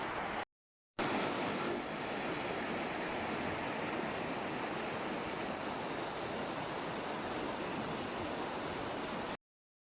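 The River Tawe flows steadily alongside a walker, a dense, continuous rush of water that fills the scene at close range. It holds an even roar throughout, broken only by a brief dropout near the start, with no talking.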